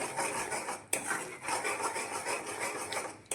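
Melted jaggery for a peanut sweet is stirred steadily in a pan, giving a continuous close scraping and rubbing sound with one sharper knock of the spoon against the metal.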